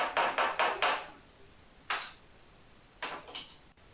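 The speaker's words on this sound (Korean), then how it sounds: "남아있는 이물질, 남아있는 백시멘트들은 망치나 뭐 드라이버 같은 걸로 톡톡톡 쳐주시면 잘 제거됩니다" Hammer or screwdriver tapping leftover white cement off a toilet during a toilet replacement: a quick burst of four sharp taps, then one single tap, then a few more, close and crisp with quiet gaps.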